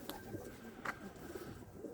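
A pigeon coos softly over a steady outdoor background hum, with a faint burst of noise near the middle that could be wings, while the bird is flown from a rooftop loft.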